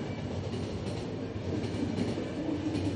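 A train rolls steadily in the game The Final Station, with a continuous low rumble, rhythmic rattling of the cars and a faint metallic whine, close and unbroken with no voices.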